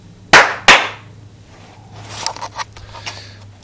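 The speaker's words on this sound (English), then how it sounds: "I need to clap on the light in there." Two sharp hand claps in quick succession, close and loud in a quiet home room, meant to switch on a clap-activated light, followed by faint shuffling and small handling noises.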